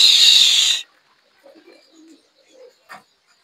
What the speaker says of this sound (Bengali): আমার উপরের কবুতর গুলো এই তো সব আছে এখন এখানে